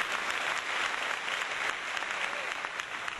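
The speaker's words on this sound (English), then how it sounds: "You guys don't have to clap every time I move around." An audience claps at a live software demo presentation, a sustained, fairly quiet patter of many hands with a faint thump near the end and no talk over it.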